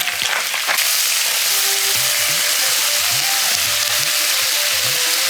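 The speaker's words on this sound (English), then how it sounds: "so I've got the wings here, straight in, hot oil, get a little bit of color on them" Chicken wings sizzle steadily in hot oil in a pan, a loud continuous frying hiss with occasional spatter and faint stirring clatter, no voices.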